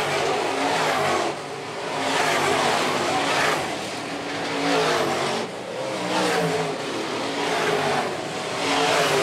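Modified race cars roar around the Phillips County Raceway dirt track, engines surging and fading in loud, continuous waves as the field works through the corners, with no talk over them.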